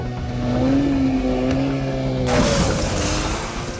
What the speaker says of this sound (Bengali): আবার কখনো কখনো নদীর ঢেউ খেলানো পানিতে লাফিয়ে লাফিয়ে এঁকে বেঁকে চলছে এসব স্পিড বোট।